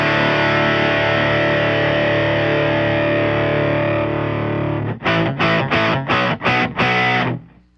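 Guitar run through an Ultrawave multiband processor set to distortion, a long, dense, buzzing sustained chord followed by about six short, choppy distorted stabs in quick succession, loud and up front with no talking.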